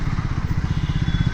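A Triumph Speed 400 motorcycle engine throbs close and loud while being ridden, a continuous rapid pulsing rumble with no talk.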